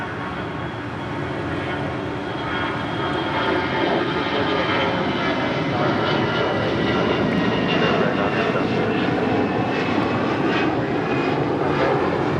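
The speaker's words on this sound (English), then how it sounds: "That is an A320 with sharklets taking off to Cincinnati, Ohio." An Airbus A320 with sharklets takes off from LAX bound for Cincinnati, its engines building to a loud, sustained roar that holds steady to the end, with no talk over it.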